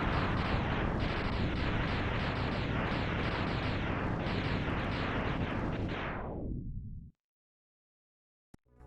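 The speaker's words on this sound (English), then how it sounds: "Let's just throw some Horming Torpedoes at him." Homing Torpedo shots fire in the Mega Man X game as a loud, unbroken roar of blasts lasting about seven seconds, then cut off abruptly to silence, with a faint click near the end.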